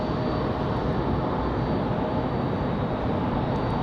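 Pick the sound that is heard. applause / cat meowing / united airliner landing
united airliner landing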